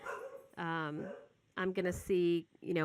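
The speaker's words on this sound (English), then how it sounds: "sorry about the dogs" Dogs bark repeatedly nearby in sharp, loud bursts, overlapping someone talking indoors.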